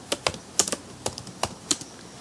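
Keys on a computer keyboard clack in quick, irregular bursts of about a dozen close, crisp strokes with short pauses between them.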